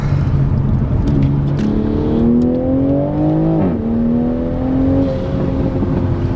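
A Toyota Supra engine revs hard against the rev limiter, its loud droning exhaust note climbing and then stuttering, rising again and falling back over several seconds, heard close with no talking.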